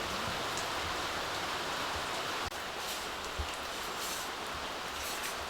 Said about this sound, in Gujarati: જો ભાઈ અત્યારે વરસાદ શરૂ છે